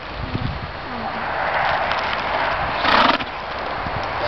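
A horse named Nocona whinnies and its hooves clip-clop while a child rides, a mid-distance neigh swelling near the end over soft steady hoof steps and light wind.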